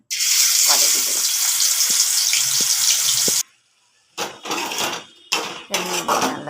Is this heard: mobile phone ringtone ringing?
no